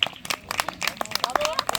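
Scattered hand claps from a small outdoor audience at a medieval interactive storytelling show, quick and uneven under lively talk.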